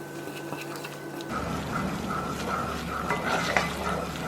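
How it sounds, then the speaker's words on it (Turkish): Flour being stirred into melted butter in a pan, a steady close sizzle with scraping spoon strokes that grows busier after the first second and keeps a continuous frying hiss throughout. "Unun çiğ kokusu çıkana kadar karıştırıyoruz."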